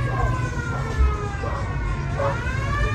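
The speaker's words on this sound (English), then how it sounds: "it's not a real police siren. It's all those custom cars, they have built-in police sirens" A wailing siren from custom cars with built-in police sirens rises and falls over steady street noise and engine rumble in downtown Reno, Nevada, fairly loud and continuous throughout.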